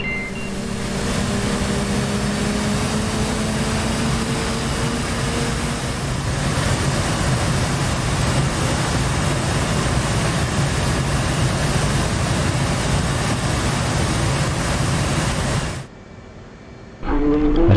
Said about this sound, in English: close the canopy to keep out the engine noises here